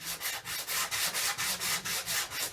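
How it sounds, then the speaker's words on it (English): Sandpaper on a backer worked back and forth over a Mossberg 500 recoil pad, giving a close, even rhythm of about ten rasping strokes with no speech. "get yourself a piece of sandpaper and a backer"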